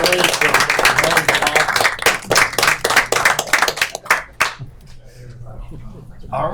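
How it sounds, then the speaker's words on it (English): A round of applause at a city council meeting honoring a fire chief's family member, with dense, steady clapping for about four seconds before thinning out to scattered claps and quiet room noise. "I'd like to give us a round of applause to Stevie."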